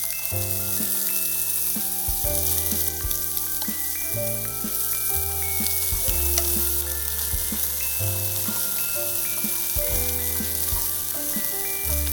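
Continuous sizzle of chicken and onions frying in a pan, a constant hiss beneath background music with no talking.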